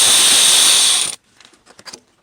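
A ratchet wrench removes a single 10 mm bolt from a cover on a Subaru WRX/STI during timing belt work. It gives a loud, fast, continuous ratcheting for about a second, then stops, and a few faint clicks follow.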